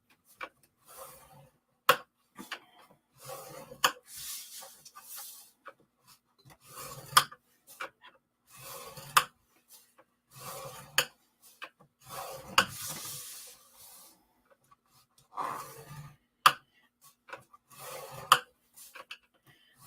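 Wood being scored by hand for a sliding top box, with short rasping strokes repeating in irregular bursts across the span, fairly close and moderately quiet, with no voices.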